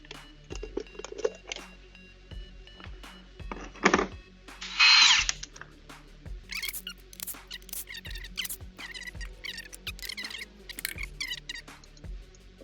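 Impact power tool taking off the wheel of a Chevy Trailblazer, several short loud bursts of whirring and rattling separated by pauses, with lighter clanks and handling noises between them.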